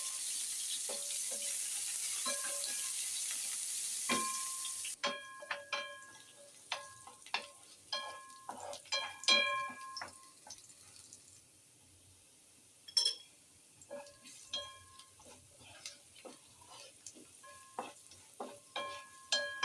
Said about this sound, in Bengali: এখন ভাজিটা বসাই দিই